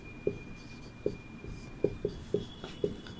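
Someone writes an example on a board during a Hindi lesson, with about half a dozen soft taps and scratches of the marker or chalk spread unevenly across a quiet room.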